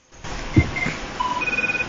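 Telephone ringing, a short burst of pulsed electronic ringing heard up close after a brief bump, over steady background noise, with no talking.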